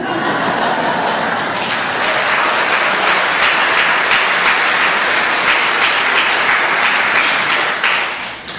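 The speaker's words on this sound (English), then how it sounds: "The claps are just going to keep coming today, friends." A church congregation applauds a prelude during a Sunday morning service, dense sustained clapping filling the room loudly and evenly before tapering at the end.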